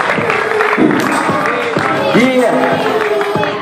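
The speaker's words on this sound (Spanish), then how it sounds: "Fuertes aplausos para los MCs" At a rap battle, the crowd applauds and cheers for the MCs, scattered claps under loud shouting voices close by.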